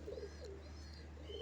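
A female pigeon gives soft, low cooing, a few faint coos over a steady low background hum.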